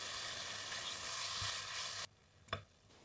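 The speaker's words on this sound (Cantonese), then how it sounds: "我哋先至放牛肉落去，等佢喺幾秒之內已經鎖住肉汁" Beef sears in a very hot wok with a loud, even sizzle that cuts off abruptly. A quiet clack and a brief hiss follow, with no talking.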